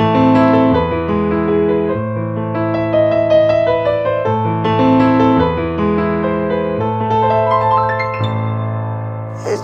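Kawai NV10S hybrid digital piano playing its EX Concert Grand sound, a continuous passage of full chords and melody, loud and close, with no voices.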